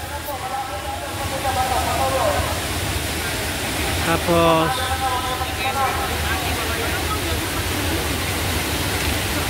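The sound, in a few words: Taytay Falls waterfall, Majayjay Laguna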